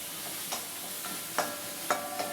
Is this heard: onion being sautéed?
yes